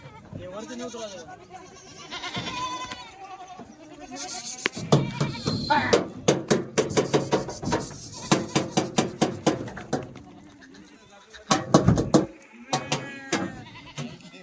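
Kathiyawadi goats bleat at a goat farm, several wavering calls early on, then a dense run of rapid clattering and shuffling noises, with people talking throughout.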